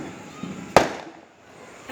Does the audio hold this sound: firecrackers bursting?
yes